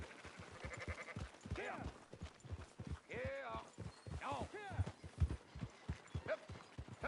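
Sheep in the video game Red Dead Redemption 2 bleat repeatedly, several wavering cries rising over a steady clip-clop of hooves and herd movement, with game voices talking around them.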